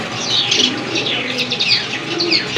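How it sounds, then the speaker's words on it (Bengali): Red Golla pigeons for sale, a pair among many birds, giving a busy mix of soft coos, chirps and occasional wing flaps, fairly close and continuous with no one speaking. "আরেক জোড়া লাল গোল্লা কবুতর"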